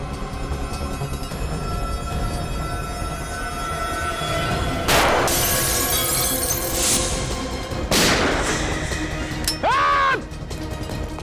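Gunfire during a CID mission, heard as a few sharp, loud bursts over steady background noise, with a rising whistle-like tone near the end.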